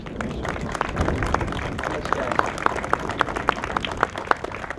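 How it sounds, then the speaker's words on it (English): At an outdoor park ribbon cutting in Hackensack, New Jersey, a small group claps for Main Street Alliance members, the individual claps distinct and fairly regular over a soft background murmur. "let's give them a round of applause"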